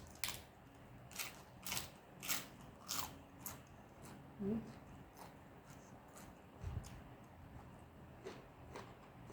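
Crispy fried pork rinds eaten with spicy papaya salad crunch in a string of sharp, close bites and chews, fairly quiet, with a few softer mouth sounds between them.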